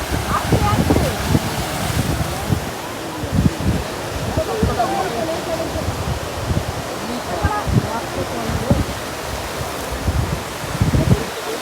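Waves wash onto the shore at night in a continuous rolling surf at Digha beach after Cyclone Dana, with wind buffeting the microphone and people talking over it.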